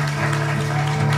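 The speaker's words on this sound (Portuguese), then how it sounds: "Uma salva de palmas pro mais novo casal," Wedding guests applaud the newly declared couple right after the kiss, a brief burst of steady clapping mixed with a sustained musical tone.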